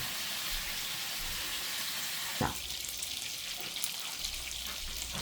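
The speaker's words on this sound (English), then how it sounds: "I'm going to keep frying these up." Steady frying sizzle of kielbasa sausages in a pan fills the clip, a broad crackling hiss with one sharp clatter midway, close and moderately loud, no talking.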